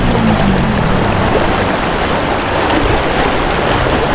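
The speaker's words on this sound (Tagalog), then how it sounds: "Lakas ng agos eh." A strong river current rushes in a steady, loud, unbroken wash of broadband water noise, close and continuous, with no voices over it.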